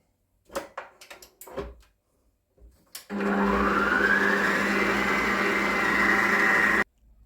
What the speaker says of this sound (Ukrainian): ставлю, щоб міксер збивав до такої білої піни